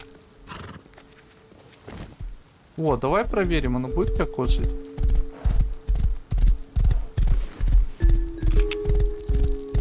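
A horse in the video game Rust gives a loud rising whinny, followed by steady, evenly spaced clip-clop hoofbeats close by, with someone talking over the sounds.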